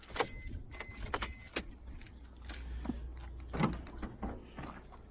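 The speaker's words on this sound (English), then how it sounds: "Let's double unlock it." A car unlocked twice with its remote key fob, sharp clicks and clunks of the door locks near and clear, then rustling and key handling in a quiet setting.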